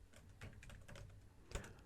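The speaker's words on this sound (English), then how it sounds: "To do this, I type Python" A handful of quick, quiet keystrokes tap on a computer keyboard, close up and unevenly spaced, with one sharper final key press.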